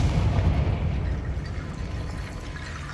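A Confringo blasting spell explosion in the Hogwarts Legacy video game, a single deep rumbling boom that starts loud and slowly decays into a low roar.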